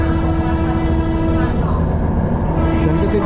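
The slow KA Batara Kresna train runs along a street-level track in Wonogiri, Indonesia, giving a loud, steady rumble of wheels and engine, with a sustained horn-like tone partway through.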